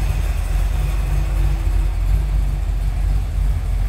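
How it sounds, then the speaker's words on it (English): Numbers-matching 1965 Chevrolet Corvette 396 coupe idling smoothly with the hood open, a steady low engine rumble close by and alone, without revving. "Nice smooth running car."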